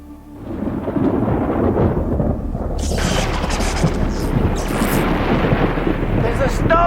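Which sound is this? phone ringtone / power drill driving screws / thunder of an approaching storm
thunder of an approaching storm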